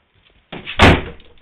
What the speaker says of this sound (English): Close the door then.